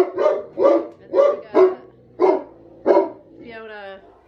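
A young Great Dane puppy, about eight weeks old, lets out six short, evenly spaced barks at close range, ending in a drawn-out whining yelp.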